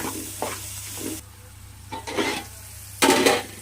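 Onions and green chillies sizzle in a hot pan in uneven bursts, with louder flare-ups and quieter gaps between them, close and alone without any voices.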